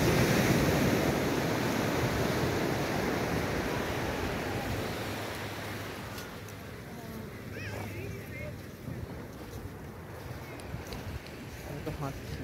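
Waves washing ashore on clean Benaulim Beach in South Goa, a broad steady surf wash that is strongest early and eases slightly, with faint scattered chirps in the background.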